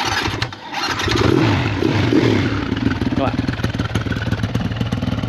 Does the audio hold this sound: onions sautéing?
no